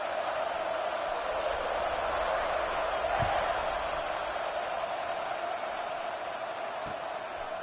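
Broad, steady roar of a football stadium crowd before kickoff, a dense wash of massed voices at a constant level with an occasional faint thump.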